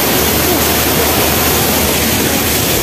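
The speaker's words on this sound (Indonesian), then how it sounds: "Dapat air terjun lagi." Curug Ciputri waterfall in Kuningan roars as a loud, close, continuous broadband rush of falling water, steady and unbroken with no other sounds standing out.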